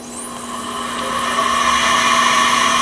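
A Campbell 750 CNC fixed-rail vertical universal grinder spins up at the start of its cycle, a loud steady motor whine with a constant hum that builds gradually in level, heard close and alone without talk.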